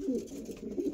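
Breeder pigeons coo softly in a loft, a faint, low, continuous burbling with a couple of swelling calls and no voices.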